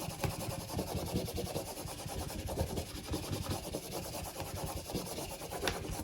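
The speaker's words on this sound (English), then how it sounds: "Use your little scraper." A small scraper rubs vinyl sheet flat against a cutting mat in a continuous, dense scraping friction that runs steadily throughout, close and fairly loud with no voices.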